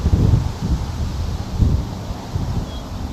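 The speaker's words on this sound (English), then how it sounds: "So it's gotten slightly windier" Wind gusting across a coastal hiking loop trail near Avila Beach, California, a steady low roar buffeting the microphone with stronger surges near the start and middle, no talking.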